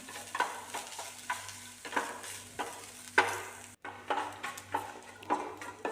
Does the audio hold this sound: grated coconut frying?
yes